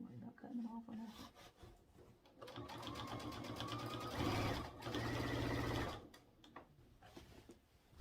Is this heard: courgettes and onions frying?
no